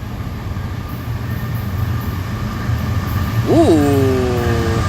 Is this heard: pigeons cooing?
no